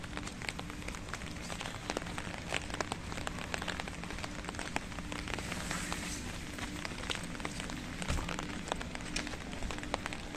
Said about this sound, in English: this is rainy weather